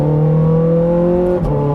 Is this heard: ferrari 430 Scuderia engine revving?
yes